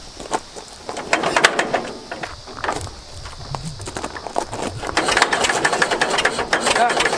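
A finicky old car engine on choke sputters into life and runs rough and uneven, loud and close with irregular bursts, while a person talks over it.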